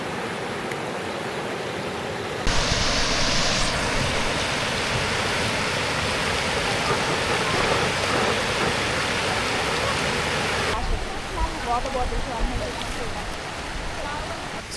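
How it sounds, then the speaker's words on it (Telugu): Rushing river water at Rushing River near Kenora, Ontario, a steady, close, loud broadband rush that carries on without a break for the whole stretch. "ఈ వాటర్ సౌండ్ వెంట తింటుంటే సూపర్ ఉంది అసలు"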